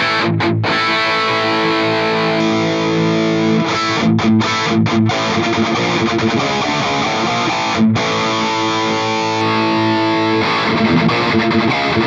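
Electric guitar played through an ENGL Ironball SE amp with V30 speaker impulse responses, giving a heavily distorted, loud, sustained tone with palm-muted chugs and brief stops between riffs and no talk.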